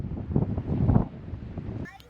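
Desert wind gusting across a microphone in Anza-Borrego, rough low buffeting bursts that swell and fade over about two seconds, with a short voice at the end.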